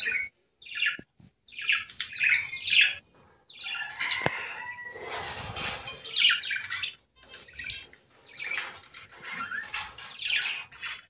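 Pet birds squawk and chirp in repeated harsh bursts at feeding time. The calls are scattered and overlapping, fairly near, with brief pauses between clusters and no talking.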